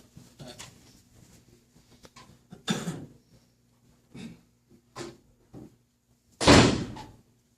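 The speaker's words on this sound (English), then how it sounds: "Hold on a second, I gotta close this door." A door is shut in a quiet room with shuffling and small knocks first, then a loud, close slam near the end, with a cough-like burst in between.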